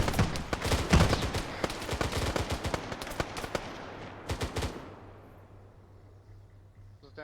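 Rapid bursts of automatic gunfire are fired at a house, loud and close, crackling repeatedly before tapering into scattered shots and a quiet tail, with faint voices in the background.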